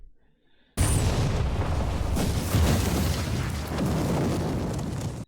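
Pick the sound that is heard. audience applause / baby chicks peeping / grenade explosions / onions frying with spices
grenade explosions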